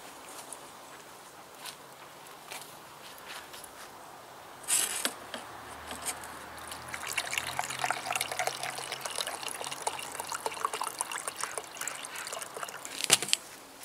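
Water is poured to fill a container, probably a coffee maker, starting suddenly as a close, steady trickle and splash that keeps on with faint clicks before a final clunk.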